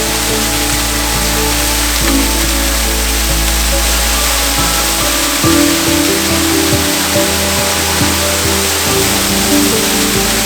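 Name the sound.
waterfall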